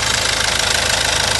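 A used engine from a car imported from Korea idles with a steady, dense mechanical drone and a faint knocking, rattling tick running through it, close and loud with no talk.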